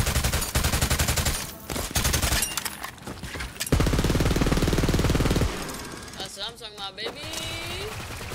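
Rapid automatic gunfire from a weapon in the video game Borderlands 3, loud bursts with brief pauses that break off partway through, followed by game effects and a short voice at the end.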